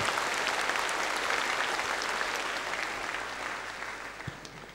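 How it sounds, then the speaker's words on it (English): Sustained applause from a congregation at the episcopal ordination of Bishop Simon Poh, a steady dense wash of clapping filling the whole stretch and tapering slightly toward the end. "Let's give them a round of applause for all those who have contributed"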